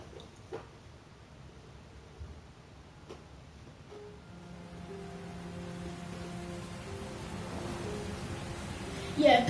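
Steady rainfall in the video game Heavy Rain on PS4 Pro, a soft continuous patter on surfaces with a few faint ticks, building slightly louder toward the end, heard alone.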